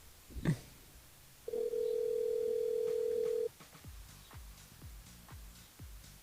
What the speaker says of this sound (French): On appelle Erika du côté de Silaos